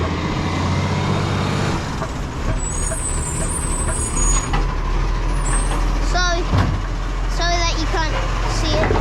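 A garbage truck rumbles close by with a loud engine drone, then gives sharp hissing air-brake releases and squealing brake whines near the end, while someone talks over it.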